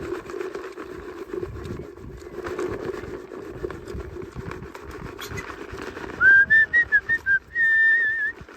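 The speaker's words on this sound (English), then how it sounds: "I'll whistle so there's no squeal." Someone whistles to pigs on a farm, first short rising notes and then one long held tone, clear and close, over a steady low background rumble of the pen.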